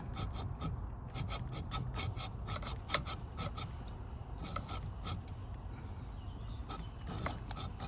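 A hacksaw cuts a fine sliver from a battery cable terminal on a 6.7 Cummins. The strokes are quick, steady and rhythmic, a close, rasping back-and-forth with no talk.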